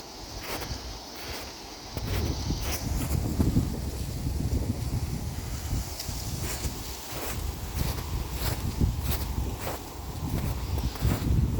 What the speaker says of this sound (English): the wind got real crazy since the last video